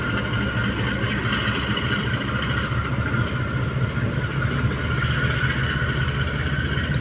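A GEU20 diesel locomotive engine working at full power sends out a loud, steady, unbroken rumbling drone close by, with no voices.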